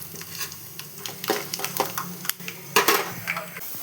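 Peanuts and cumin fry in hot oil in a home kitchen pan, with a steady sizzle broken by sharp clattering pops and stirring scrapes, close and fairly quiet, no talking.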